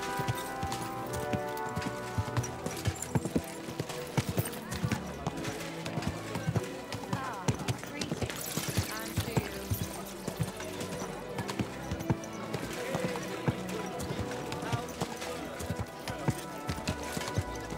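Rhythmic horse hooves clip-clop continuously over a dense bed of music and ambient game sound in the video game Kingdom Come: Deliverance II.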